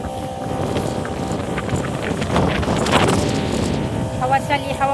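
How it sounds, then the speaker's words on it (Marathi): Wind gusting across a farm field where weeds are being sprayed, a steady rushing roar buffeting the microphone for several seconds, with faint creaks and a possible voice beneath. "हवा चालली, हवा पण येते आहे थोडी थोडी."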